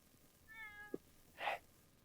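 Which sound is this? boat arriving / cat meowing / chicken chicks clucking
cat meowing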